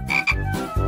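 A cartoon frog croaks in a quick series of deep, buzzy, close croaks, three bursts in under a second with no talk over them.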